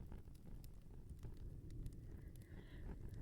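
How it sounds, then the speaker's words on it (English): A fireplace fire burns indoors on a cold night, giving soft scattered crackles and pops over a low, quiet rushing bed, close and gentle. "Having the fireplace going is even nicer when you know just how cold and miserable it is outside."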